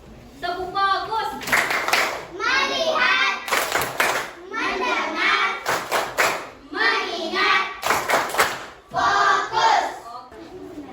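Indonesian classroom children chant together in a teacher-led focus-clap routine, with sharp rhythmic hand claps landing between the spoken lines, close and fairly loud under the group voices.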